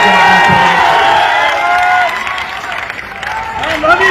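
A crowd at a political nomination rally claps and cheers loudly, with shouts and voices mixed into the clapping throughout.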